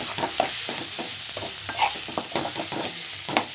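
Tomatoes fry with spices in a pan for a chicken masala gravy, a steady close sizzle broken by repeated scraping stirs at an uneven rhythm.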